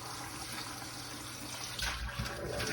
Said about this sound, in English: cups of water, cold water in here.